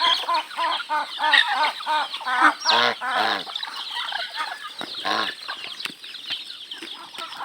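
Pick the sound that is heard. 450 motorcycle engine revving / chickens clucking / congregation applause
chickens clucking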